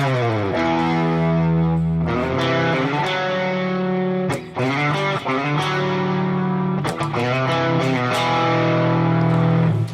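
Distorted electric guitar chugging through an aggressive rhythm part, thick and loud with sustained crunchy chords and quick changes.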